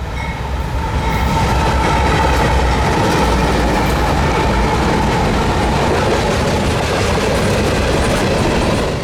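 Manifest freight train E50 rolls past on the North Carolina Railroad near Raleigh, a loud continuous rumble and rattle of freight cars with steady wheel clatter throughout.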